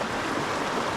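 Ice-cold meltwater pouring down from a small glacier, a close, steady broadband rush of flowing water that holds at an even, fairly loud level throughout the brief moment.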